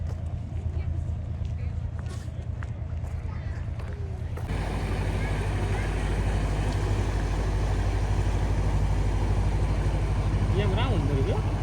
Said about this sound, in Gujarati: મસ્ત બોટ છે